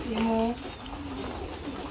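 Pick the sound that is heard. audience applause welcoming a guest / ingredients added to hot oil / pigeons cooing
pigeons cooing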